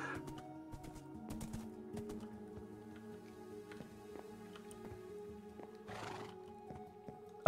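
Horse whinnying and neighing in the video game Minecraft, with scattered clip-clop hoofbeats and small game noises, a short neigh burst near the end, moderately quiet and without talk.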